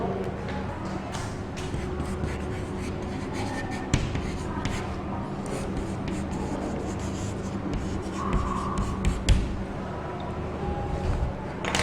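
Pen writing notes by hand in a copybook, a steady close scratching and tapping that runs continuously with small irregular knocks.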